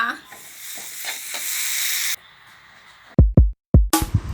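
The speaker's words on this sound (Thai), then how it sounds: "ผัดซีอิ๊วเส้นมาม่านะคะ" Mama instant noodles stir-fried with soy sauce hiss in a loud, close sizzle for about two seconds, then a near-silent gap, followed by several short, abrupt bursts of frying.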